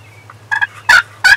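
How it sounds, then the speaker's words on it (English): A wild turkey gobbles during a spring hunt, giving a few loud, close, rattling bursts in quick succession over a low steady hum. "heard a gobble"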